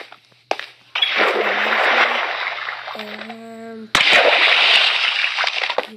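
In a Minecraft Pocket Edition water slide, two loud, rushing splashes of in-game water play, each lasting a couple of seconds. Brief tonal game blips sit between them.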